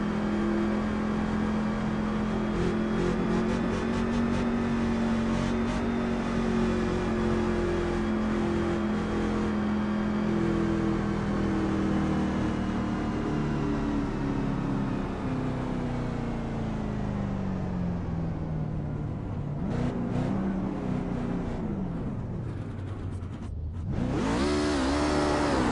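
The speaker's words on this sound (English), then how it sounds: "As our winner, Marty Sponsler, does his burnouts in that 23 truck right at the start-finish line here at Atlanta." A number 23 race truck does burnouts at the start-finish line at Atlanta, its loud engine roaring and revving steadily throughout, dipping briefly near the end before surging again.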